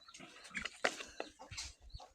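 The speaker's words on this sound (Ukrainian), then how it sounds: "півень молодий" A young rooster's rough, breaking crow and clucks rise and fall over a couple of seconds, close by, with other farmyard fowl sounds around it.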